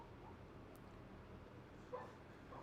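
Dogs bark and yip faintly in the background with a brief whimper, a distant muffled sound with no speech over it.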